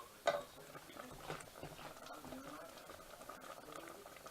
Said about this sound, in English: Let it simmer